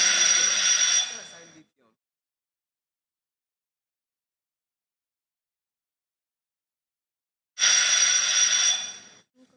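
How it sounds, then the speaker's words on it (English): Two bursts of a bright electric bell at a school quiz competition, each ringing loudly for about a second and a half, separated by several seconds of silence. "That was the bell."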